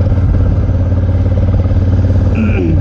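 A Honda Africa Twin adventure motorcycle is ridden on a backcountry trail, its engine thrumming loud and steady from an onboard perspective with clattering and a brief higher whine near the end.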